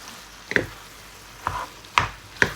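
Instant noodles being stir-fried in a large pan, a few scattered scraping and clattering strokes, four sharp bursts with quiet gaps between, fairly close and moderate in level.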